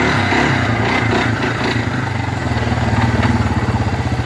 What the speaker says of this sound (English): I don't think I can do donuts like this.